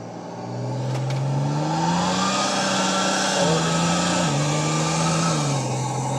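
A car with a lock-up torque converter revs loudly and steadily under load, its engine tone climbing, then stepping down as it shifts and rising again, close and continuous.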